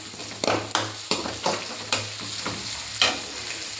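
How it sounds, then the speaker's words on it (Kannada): A spice masala for avarekalu (field bean) sambar fries in a pan, a soft sizzle under regular spatula scrapes and taps roughly every half second, fairly quiet, with nobody talking. "ಈಗ ಖಾರಕ್ಕೆ ನಾವು ಇದನ್ನೆಲ್ಲ ಫ್ರೈ ಮಾಡ್ಕೊತಾ ಇರೋದು ಚೆನ್ನಾಗಿ"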